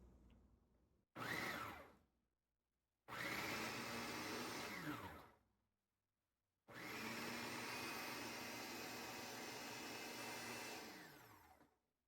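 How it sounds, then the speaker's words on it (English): A Hamilton Beach food processor whirs through pulse chopping in three loud motor bursts, a short one followed by two longer runs, each spinning up and cutting off sharply, with quiet gaps between them. "I'm going to hit the pulse to chop button"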